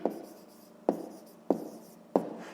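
A pen scratches on paper during a fifth-grade maths exercise, in short, close strokes with four distinct sharp onsets spaced under a second apart, quiet and with no speech.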